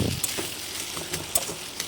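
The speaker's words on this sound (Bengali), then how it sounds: "মেখে রাখা আলুগুলো একটা চামচ দিয়ে ওই কষানো মশলাটার মধ্যে দিয়ে দেব।" A spoon mixes boiled mashed potatoes into fried masala in a pan for masala aloo, with soft scraping and light sizzling in short strokes, fairly quiet with no talk.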